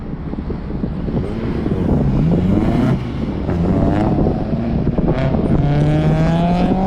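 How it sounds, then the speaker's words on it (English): A Porsche Panamera Hybrid pulls away on an autocross course at Grissom AFB, its engine climbing in pitch through several rising sweeps, loud and close, with wind buffeting the microphone throughout. "Victor goes out in the Panamera Hybrid"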